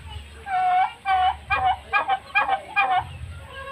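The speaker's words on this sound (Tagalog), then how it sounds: "Mga pabo." A series of loud, bubbling gobbles from turkeys close by, several calls in quick succession, with a soft low murmur between them.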